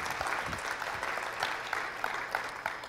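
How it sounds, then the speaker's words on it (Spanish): Church congregation giving a strong round of applause during a bilingual sermon, dense continuous clapping from a crowd, steady and fairly soft in level for a few seconds. "dale un fuerte aplauso al Señor"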